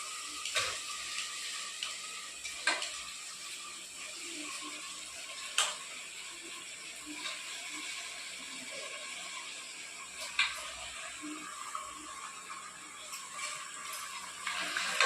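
Small mutton pieces go into a pan of tomato and onion, giving a soft, steady sizzle with faint scattered ticks and clinks, moderately quiet and with no talking over it.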